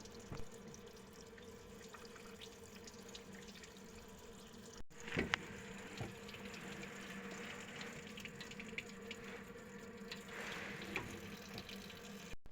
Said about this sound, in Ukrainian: Далі я зливаю воду, яка досить сильно забруднилася.